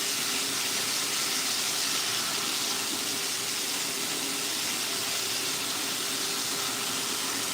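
Finely chopped chicken sizzles in a hot dry pan on a stove, a steady, dense hiss that holds evenly throughout without a break.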